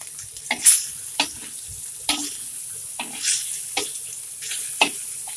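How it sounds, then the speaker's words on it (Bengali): Fish seasoned with a little turmeric and salt fries in a pan, a soft sizzle broken by sharp crackles and spatters every second or so, with the clatter of stirring; no one speaks. "একটু হালকা হলুদ লবণ দিয়ে ওর মাছটা ভেজে দেই।"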